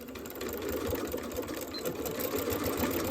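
Close, steady whirring of a sewing machine stitching a fabric door latch cover, one continuous run lasting about three seconds with no talk.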